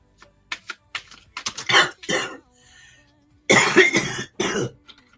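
A person at close range lets out a string of rough, rapid coughs and throat clearing, then two louder hacking bursts near the end, with quiet gaps in a small indoor space.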